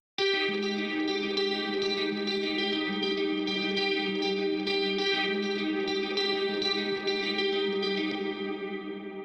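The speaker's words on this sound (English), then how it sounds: "Moving on to the clean tone, that sounds like this." A clean electric guitar played through a Line 6 Metallurgy amp plugin clean tone rings out with a shimmering chorus effect and spacious ambience, sustained chords played steadily and loudly, no voices.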